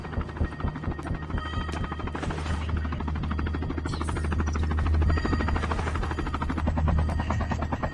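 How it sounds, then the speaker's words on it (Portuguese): Helicopter in a Call of Duty game, a steady close rotor thump and engine drone swelling slightly in loudness, with occasional gunfire cracks in the background. "Tem um helicóptero aqui."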